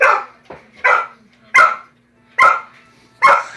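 A dog barks in five sharp, loud bursts at a steady pace while chasing a remote control helicopter, with a faint low hum running underneath between barks.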